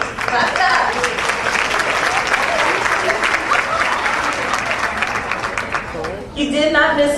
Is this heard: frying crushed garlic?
no